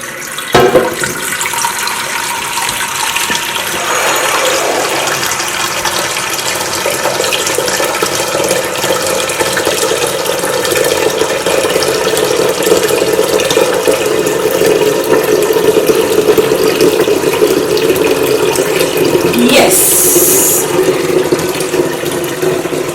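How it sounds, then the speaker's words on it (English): Tap water running steadily into a pot as 10 cups are measured for cooking yam, a continuous loud rushing stream lasting about twenty seconds with no talking. "I would be using 10 cups of water"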